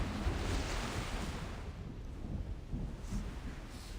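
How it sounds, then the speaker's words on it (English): Water waves in the video game Reverse 1999: a continuous, fairly soft wash of surf with a breathy, wind-like hiss and gentle swells rising and falling. "That sound of water."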